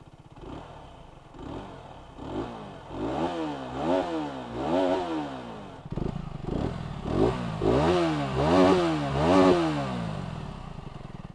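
An FB Mondial Pagani 125 motorcycle's single engine starts, then revs in repeated rising and falling bursts, close and loud, with a brief break before a second series of revs.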